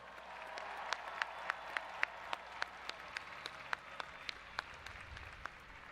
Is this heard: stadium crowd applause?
yes